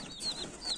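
Hens of the Aseel breed with newly brought chicks give soft, faint peeping chirps, a couple of short high cheeps over quiet background.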